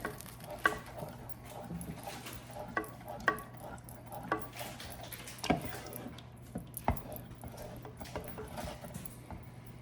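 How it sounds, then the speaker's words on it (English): Light stirring of a sauce made with apple cider vinegar, a sequence of soft clicks and taps of a utensil against a pot over a quiet background hum, close and fairly faint. "All right, give this a little stir."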